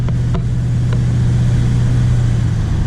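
A 1984 Chevrolet Caprice Estate wagon drones loudly from inside under hard acceleration, a low steady engine hum with a few faint ticks near the start and no clear shift break.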